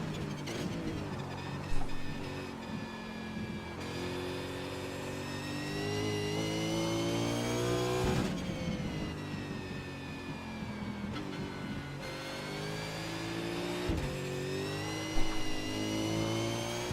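A Holden Commodore V8 Supercar engine in a racing video game drones steadily with rising and falling revs through gear changes, loud and continuous for the whole lap section with no talking.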